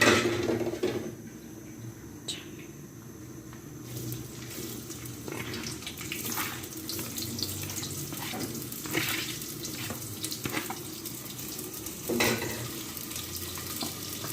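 Onions frying in a pan for moong masoor dal, a steady close sizzle and crackle with occasional clinks and scraping, no talking.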